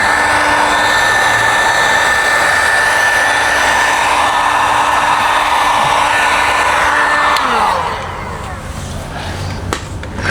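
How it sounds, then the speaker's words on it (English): A heat gun blows hot air onto vinyl door skin for a Jeep JKU front door, a loud steady whooshing whine that runs for about eight seconds, then cuts off, leaving quieter room noise. "Grab your heat gun."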